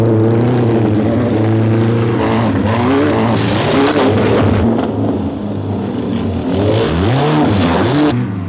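Racing car engines roar loudly and continuously, pitch rising and falling as cars accelerate and pass close by.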